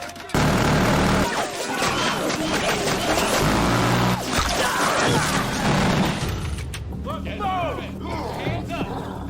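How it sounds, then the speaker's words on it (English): Warning shots ring out from a prison guard tower during a riot in a film scene, sharp bursts of gunfire mixed into loud, chaotic crowd noise and tear-gas commotion, with voices shouting throughout. "Warden orders warning shots from the tower to break up the chaos."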